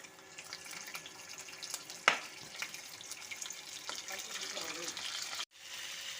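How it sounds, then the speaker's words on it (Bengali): Chicken pieces drop into hot oil with black cumin and fry with a loud hissing sizzle that surges at the moment they go in, then settles into a steady crackle. "এখন দিয়ে দিচ্ছি ধুয়ে রাখা চিকেনের পিসগুলো।"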